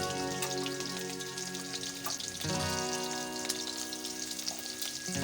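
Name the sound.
chopped onion and chili sizzling in hot oil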